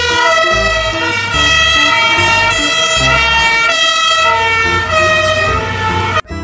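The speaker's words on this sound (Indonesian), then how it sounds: "Ada mobil pemadam kebakaran." A toy fire truck siren wails steadily and loudly, its electronic tones cycling in a repeating pattern, cutting off abruptly at the end.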